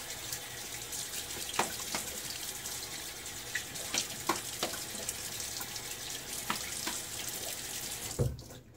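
Tap water runs steadily into a sink while a razor is rinsed partway through a wet shave with a Nacet blade, with light clinks and splashes over the flow before it shuts off at the end.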